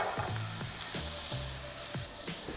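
Onions hit hot oil and chicken fat in a pan for an Italian-style chicken dish, giving a steady loud sizzle with several sharp stirring scrapes on top, close and with no talk.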